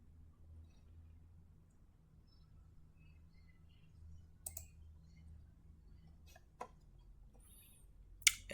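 Computer mouse clicking at a Windows 11 computer: a few faint, sharp clicks scattered over a quiet background, with a louder pair near the end.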